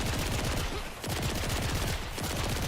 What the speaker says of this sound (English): Is gunfire a little bit loud?